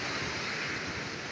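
Water rushing through a concrete canal headworks where seven canals branch off, a steady broadband roar of turbulent flow heard close and continuous with no voices.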